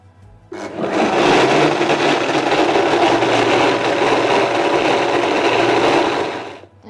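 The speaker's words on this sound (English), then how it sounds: "we're going to put our blender back on and we're going to slowly stream it in" A blender runs loud and steady for about six seconds emulsifying vegan grateable parmesan, starting abruptly and cutting off at the end, with no talking.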